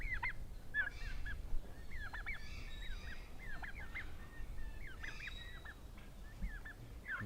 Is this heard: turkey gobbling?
yes